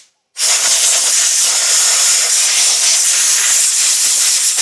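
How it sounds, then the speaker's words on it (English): A steady, loud hiss of compressed air blasts grit away from a chainsaw carburetor during basic maintenance, starting abruptly after a brief silence and continuing unbroken, with no talking. "Just blow any grit from around the carburetor."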